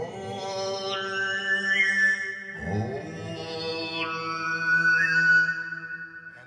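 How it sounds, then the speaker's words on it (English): Central Asian throat singing sample played on a Synthophone, a droning voiced tone with a whistling overtone that slides and wavers above it, repeated in two long phrases, with no other voices. "that's the sound of this tube and throat singer in the sample collection."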